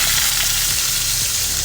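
Onions sizzling and frying in a pan with rice and roasted garlic, a steady close hiss of hot oil running throughout with faint stirring scrapes.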